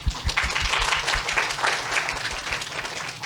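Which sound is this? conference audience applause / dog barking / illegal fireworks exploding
conference audience applause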